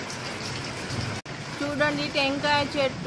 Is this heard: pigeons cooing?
no